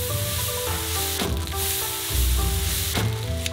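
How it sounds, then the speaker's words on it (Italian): Onion, garlic, ginger, chili, pepper, mushrooms and cabbage stir-frying in a hot pan, a loud steady sizzle broken twice by the scrape and clatter of stirring, no voices. "aggiungiamo aglio, zenzero e peperoncino, peperone, funghi, cavolo e facciamo soffriggere"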